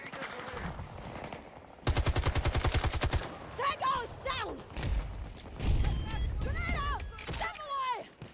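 An RM68 light machine gun in a video game fires one sustained burst of evenly spaced rapid shots lasting over a second, surrounded by excited talking before and after.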